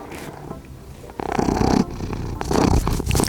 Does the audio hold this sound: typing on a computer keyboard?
no